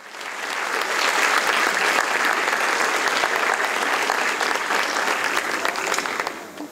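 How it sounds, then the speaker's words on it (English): A large audience applauds steadily at a Spanish-language book premiere for Supreme Master Ching Hai's The Dogs in My Life, a dense, sustained wash of clapping that swells quickly and holds evenly before tapering at the end. "Let's welcome Supreme Master Ching Hai with a round of applause."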